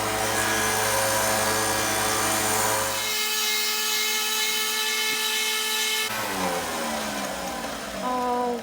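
Power sander whining steadily against wooden earrings, sanding each side, with the motor pitch shifting as pressure changes on the wood; loud and close, with no talk.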